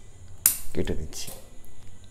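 Pruning shears snip through the branches of an Indian elm bonsai, a sharp close cut followed by a few smaller clicks and rustles, with a voice murmuring faintly nearby.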